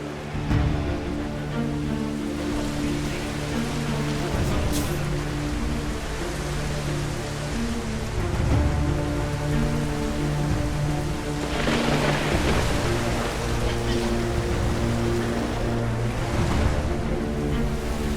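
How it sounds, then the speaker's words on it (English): Heavy rain pours down on a rally race grid in a steady, dense hiss, with a low background rumble throughout and no talking. "And on the grid, as predicted, it's a downpour."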